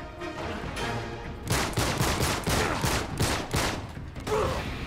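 Gunfire from the video game Uncharted 3 sounds as a dense burst of rapid shots, loud and close, with repeated sharp cracks through most of the stretch and no talking.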